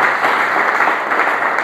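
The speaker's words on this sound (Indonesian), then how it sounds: "Beri dulu tepuk tangan terbaik." A church congregation claps steadily together during a sermon, a dense, even wash of applause filling the space close by with no voices on top.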